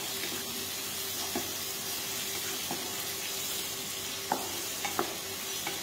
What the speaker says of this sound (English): Continuously stir it.